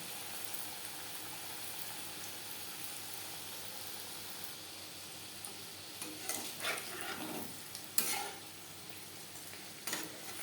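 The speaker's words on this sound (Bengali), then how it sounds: "তেল আমি হাই ফ্লেমে গরম করে নিয়েছি। মিষ্টিগুলো ভাজবো" Labong latika, Bengali sweets, fry in hot oil over medium flame, giving a steady soft sizzle with brief louder bubbling bursts near the end; nobody speaks.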